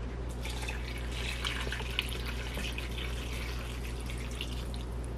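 Hot tonkatsu broth pours into a ramen bowl as a steady, close liquid stream, a continuous soft splashing wash with one small drip-like tick partway through.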